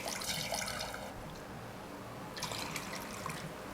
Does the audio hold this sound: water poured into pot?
yes